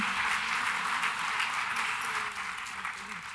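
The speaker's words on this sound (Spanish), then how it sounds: "un fuerte aplauso a Tomás por su presentación" Audience applause following an opening keynote presentation at a Spanish-language business conference, a steady wash of many hands clapping at moderate distance that eases slightly toward the end.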